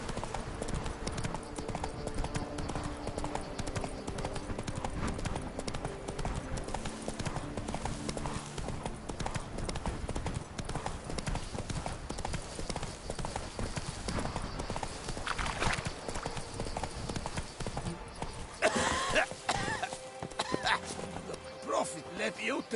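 Steady clip-clop of a galloping horse's hooves in The Witcher 3, a continuous rhythmic patter throughout, with game character voices talking over it and a brief louder burst near the end.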